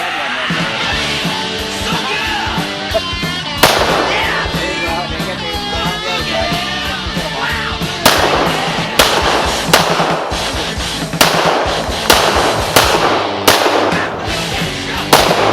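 Gunshots at target shooting practice: a series of sharp, loud, irregularly spaced bangs, about seven, over a steady bed of music.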